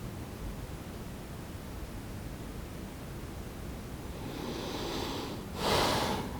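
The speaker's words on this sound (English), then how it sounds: "Deep breathing." During a quiet yin yoga session, a person takes slow, deep breaths close to the microphone. A long, airy inhale swells up, then a stronger breath out follows over steady background hiss.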